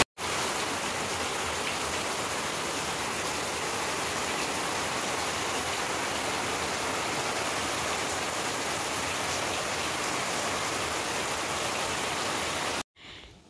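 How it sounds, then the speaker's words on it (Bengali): Heavy rain pours steadily outside a balcony, a dense even hiss of drops on surfaces that holds constant for about twelve seconds before cutting off. "কি সুন্দর বৃষ্টি হচ্ছে, আর আমি এই বেলকনিতে বসে বসে মানে দাঁড়িয়ে দাঁড়িয়ে বৃষ্টি দেখছি।"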